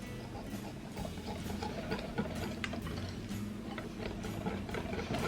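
Pancake batter being whisked in a bowl, a steady run of quick clicking, tapping strokes at close range with no voices.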